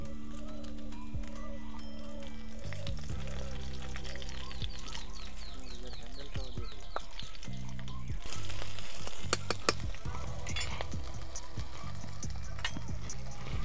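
Dry red chillies, bay leaf and cumin fry in hot oil for a duck curry, a soft crackling sizzle under steady tonal background sounds, swelling into a louder spitting burst partway through.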